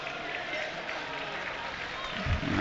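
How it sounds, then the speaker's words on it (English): Football fans clapping around the ground at a match, a broad sustained applause from a crowd with a commentator's voice over it, swelling louder near the end. "Applause from the fans around the ground, and rightly so"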